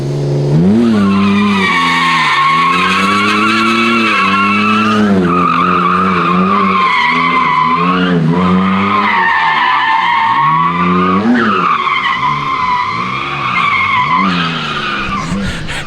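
A BMW E46 drifting, with long, loud, continuous tire squeal that rises and falls in pitch through repeated slides, the engine droning beneath it close by.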